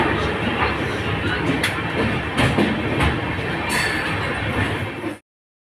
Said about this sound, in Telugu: ఇప్పుడే విజయవాడ స్టేషన్కి వచ్చాము.